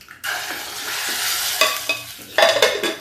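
Tadka tempering sizzling in a pan while making lauki raita, a loud steady hiss of hot oil and spices with a few sharper crackling bursts near the end, no talking.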